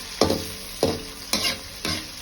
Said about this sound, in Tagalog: Ginisa ko yung ahos. Sibuyas, kamatis, luya at saka nilagay ko na rin yung lemongrass.